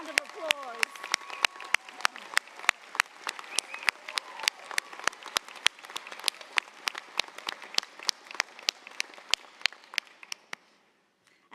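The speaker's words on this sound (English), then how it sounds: "How about a round of applause?" Graduation audience at an architecture and design school commencement breaks into applause, a bright crowd of clapping with sharp individual claps standing out, sustained for about ten seconds before stopping abruptly.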